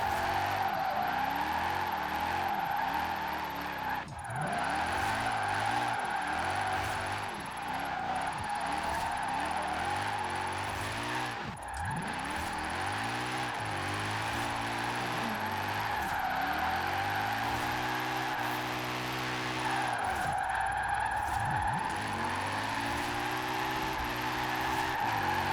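Mercedes SLS AMG drifting downhill in Forza Horizon 4, its engine note rising and falling through gear changes under continuous, loud tire squeal and skidding, with no talking over it.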